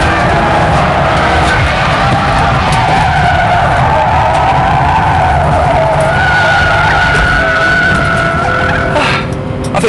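Nissan Skyline R34 GT-R cornering hard with tyres skidding and squealing, a loud sustained screech over a strained engine, close and continuous throughout.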